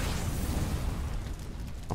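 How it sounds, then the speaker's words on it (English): An explosion in the Roblox game Heroes Online: a loud, dense burst of noise that rumbles on for about two seconds and then thins out, with no voices. "Explosion there. Pop."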